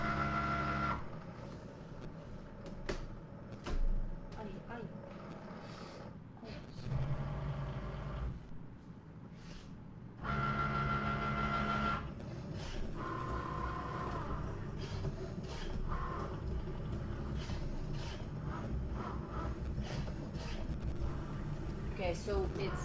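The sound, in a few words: Cricut Joy machine cutting fabric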